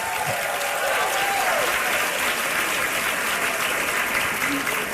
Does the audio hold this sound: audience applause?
yes